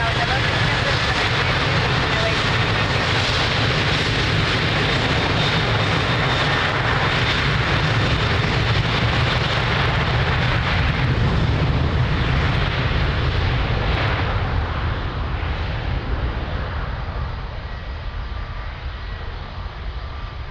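A jet airliner takes off from runway 02 at Lisbon Airport, its engines a loud, sustained roar that fills the whole stretch and eases only slightly toward the end.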